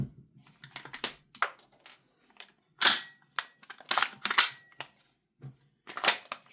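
An airsoft gun fitted with a VORSK MWS magazine fires in sharp, irregular single clicks and bursts, stopping and starting as it jams with double feeds, close and dry with no talking.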